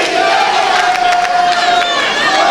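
A large crowd at a Senegalese political party investiture roars with cheers and shouts under continuous applause, dense and loud throughout, with one sustained voice standing out above the noise.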